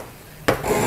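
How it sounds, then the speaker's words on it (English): A scriber scrapes along a metal disc for a cut line while building a round fuel tank for a 1959 REO car hauler, one short rasping stroke after a quiet moment, close and fairly loud. "I'm just going to scribe my new cut line"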